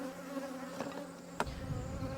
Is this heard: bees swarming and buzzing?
yes